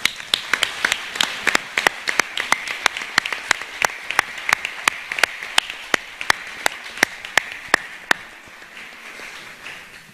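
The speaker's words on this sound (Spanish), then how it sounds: "les pido un aplauso para" An audience claps for a third-place award in a human rights judgments ceremony, a thin scattering of sharp individual claps at a quick irregular pace that continues for about eight seconds before dying away.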